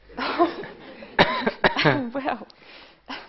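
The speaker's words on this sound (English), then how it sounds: "that cough is sounding slighter every day" A person on stage in a theatre play coughs several times in short bursts, close and fairly loud, mixed with voiced sounds like throat clearing.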